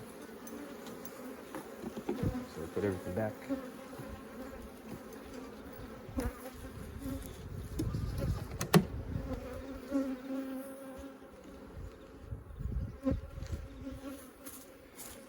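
Bees swarm in a feeding frenzy at an opened hive that has no entrance reducer, a dense, continuous buzzing drone with louder swells close by and a person speaking briefly over it.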